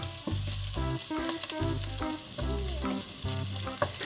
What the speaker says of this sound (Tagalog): At ang ating bawang. Chop-chop na bawang. So, gisa-gisa lang.